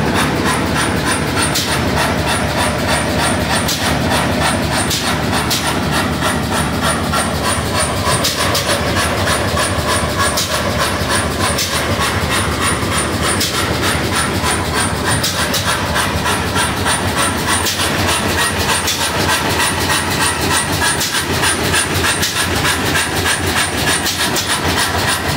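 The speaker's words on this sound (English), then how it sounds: "That's that big engine from before." A big engine runs at a car show on the National Pike, producing a loud, continuous mechanical drone with rapid rhythmic clatter and hiss that holds steady from start to finish with no talk.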